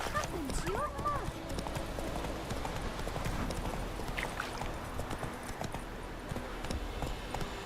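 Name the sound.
Geralt's horse Roach trotting, from the video game The Witcher 3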